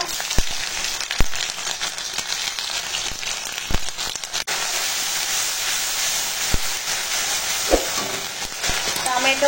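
Chopped onion with ginger-garlic paste and tomato sizzles and hisses steadily in a hot pan, close and loud, broken by occasional knocks of a spoon stirring.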